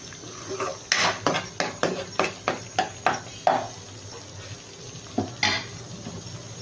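A spoon stirs potato and rajma curry in a metal pot, making about ten rhythmic clinking scrapes in a row, then a pause and a couple more close strokes.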